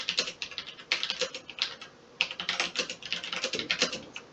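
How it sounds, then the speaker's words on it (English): Rapid, uneven keystrokes clatter on a computer keyboard in close, clear bursts with brief pauses, with no talking. "I am going to type it in."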